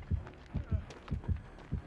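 A heartbeat pulse in Dead by Daylight Mobile, deep, regular double thumps repeating about every half second, steady and prominent.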